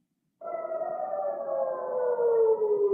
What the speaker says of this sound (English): In Jerusalem, sirens wailed as Israel started its attacks on Iran